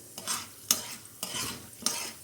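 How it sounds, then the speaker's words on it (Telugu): Soft sizzling of split chickpeas and black gram lentils frying in hot oil for a tempering, with a few sharp scraping stirs at a steady pace, close by, with no voices. "ఇవి కొంచెం గోల్డెన్ బ్రౌన్ కలర్ వచ్చే వరకు ఫ్రై చేసుకోవాలన్నమాట"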